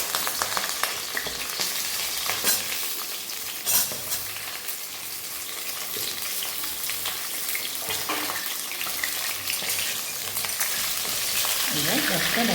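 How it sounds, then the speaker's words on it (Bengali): Pointed gourd (potol) pieces frying lightly in a pan over lowered heat for a Bengali lunch dish, a steady bright sizzle with occasional stirring clatters, close and continuous throughout. "কমিয়ে দিয়ে এবার পটলগুলো একটু হালকা করে ভেজে নেবো"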